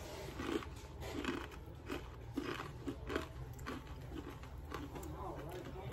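Big bite into pita chip crackers loaded with dill pickle hummus: repeated crisp crunches and chewing close to the mic, with a steady background hum.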